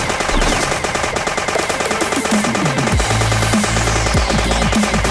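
Rapid automatic gunfire from a gun in the blocky zombie video game Dead Bits, a loud, dense, continuous rattle of shots with no pauses and no voices.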